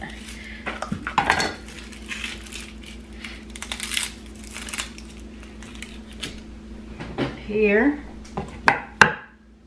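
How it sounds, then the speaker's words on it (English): A knife works through an onion on a board with scattered clattering cuts and knocks among kitchen clatter, nearby and moderately loud, while a voice briefly speaks. "Let's cut a little bit of onion up."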